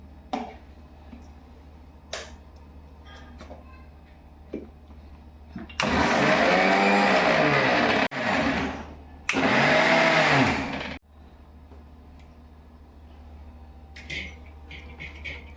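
Mixer grinder blending fenugreek leaves in its jar, a loud whirring motor roar in two bursts of about two and a half and two seconds with a short pause between, amid quieter kitchen clatter before and after.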